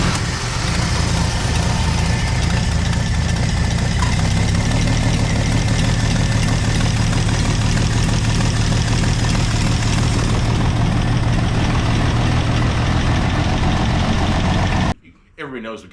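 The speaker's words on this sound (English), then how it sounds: "Everybody knows we've got the engine installed, got it running." A freshly installed car engine with a new camshaft runs during its break-in, a loud, steady, close mechanical drone with even knocking pulses that holds constant before cutting off abruptly near the end.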